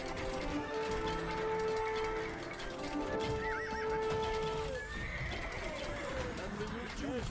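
Horse archer cavalry in the Age of Empires 2 video game: horses whinny and neigh several times over a steady clatter of hooves and battle noise, while a voice speaks throughout.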